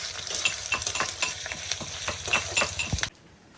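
Whole spices and ginger tempered in a little hot oil sizzle and crackle close up, with quick repeated stirring scrapes before the sound cuts off abruptly.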